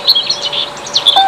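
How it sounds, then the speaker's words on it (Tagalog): Birds chirp and tweet in quick, bright overlapping calls outdoors, loud and close, with no talking. "Ang uni ng mga ibon."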